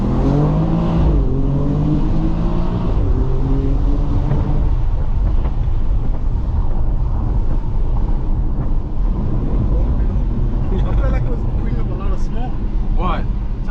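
A 2022 BMW X3 M Competition accelerating hard, its engine note sweeping upward through the gears in close, rising tones before settling into a loud rumble, with people talking inside the cabin.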